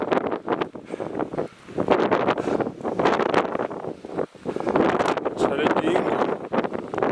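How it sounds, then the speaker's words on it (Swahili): Cold wind gusts across Karthala mountain, roaring and buffeting the microphone in loud, uneven surges, with a voice talking over it. "Kwa upepo baridi"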